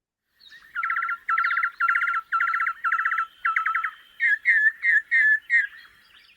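Several different wild birds call in northwest New South Wales, Australia, moving from bursts of rapid trilled chirps into a run of clear whistled notes, close and fairly loud in quiet surroundings with no talk.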